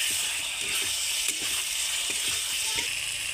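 Tomatoes frying in ground mustard paste for a pomfret curry give a steady, even sizzle with soft stirring clicks throughout.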